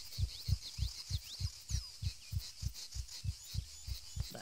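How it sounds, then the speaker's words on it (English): Steady low heartbeat pulses signalling low health in the Arma 3 video game, about three thumps every second in an even rhythm, close and prominent over faint high game ambience. "that helps to heal us and the heartbeat goes away."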